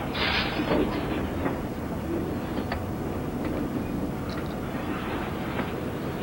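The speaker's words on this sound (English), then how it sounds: "now the engine will run around the train and tow it back the other way" A locomotive runs around its train at a station on a ride between Luzerne and Noxen, Pennsylvania, giving a steady low engine rumble with faint higher clanks over it, fairly loud and continuous.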